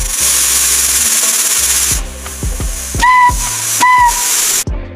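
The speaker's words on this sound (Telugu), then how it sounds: "ఇప్పుడు స్టవ్ వెలిగించుకొని కుక్కర్ పెట్టుకొని 3 విజిల్స్ వేయించుకుందాం।" A pressure cooker on a stove cooking beans lets off a loud steam hiss, then a series of sharp rattling puffs, followed by two shrill whistle bursts close by, with no talking.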